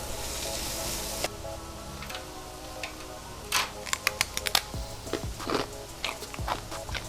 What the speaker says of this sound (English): A little bit of salt on it.